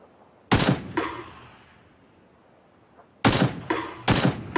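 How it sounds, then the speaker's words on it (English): Gunfire rings out in PlayerUnknown's Battlegrounds: a sharp close shot with a trailing echo, a quiet gap, then a quick pair of loud cracks, each followed by a decaying reverberant tail, with no talking. "are they getting shot or is that you shooting them?"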